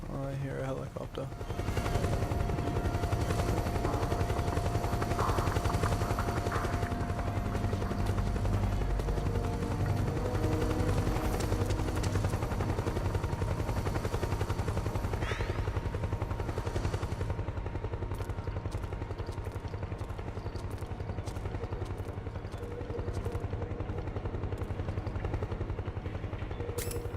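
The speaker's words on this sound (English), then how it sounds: "Oh, I hear a helicopter." A helicopter's steady, dense rotor roar fills the scene in Metal Gear Solid 4: Guns of the Patriots, with scattered sharp bursts like gunfire breaking through near the end.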